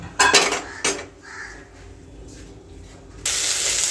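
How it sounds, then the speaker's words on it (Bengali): Vegetables and a bay leaf tip into a hot pan with a few sharp metallic clanks of utensil on pan, then a bright hiss of frying rises near the end, close and loud. "এই তেজপাতাটা দিয়ে সবজিগুলো দিয়ে দেবো"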